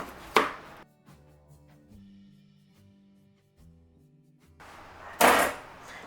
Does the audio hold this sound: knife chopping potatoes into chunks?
yes